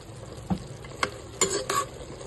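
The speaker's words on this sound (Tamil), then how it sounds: "இது எல்லாமே நல்லா வதங்கட்டும்" Spices sauté in ghee in a pan for mushroom biryani, with a soft background sizzle broken by a few sharp spatula scrapes and taps against the pan.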